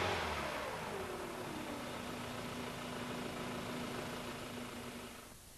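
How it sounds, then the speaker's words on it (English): A Toyota Celica engine is raced repeatedly during coolant service, a close, continuous engine drone whose pitch slides downward at first and then holds steady, with no talking. "Race the engine repeatedly and operate the engine for 15 minutes or longer."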